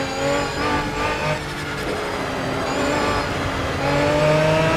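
Aston Martin V12 Vantage GT3 race car engine in the Project Cars racing game, revving continuously with rising and falling harmonic whine as it shifts through gears, loud and close with no talk.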